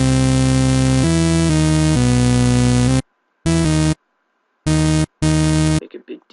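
A dubstep melody played from a piano roll in FL Studio comes through as a dense, loud, distorted synth wall that runs steadily and then breaks into short stop-start bursts separated by silences.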